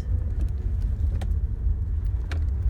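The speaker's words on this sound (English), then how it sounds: "Maybe you hear my car now making those noises." A car making odd noises gives a steady low rumble throughout, with a few faint ticks and clicks over it, close and continuous for a couple of seconds.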